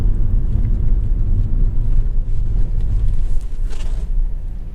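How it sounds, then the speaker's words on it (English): A big truck rumbles past on the road beside a parked car, a heavy low-frequency roar that swells and fades over several seconds, with some wind buffeting on the microphone and no talking. "just let this big truck come through"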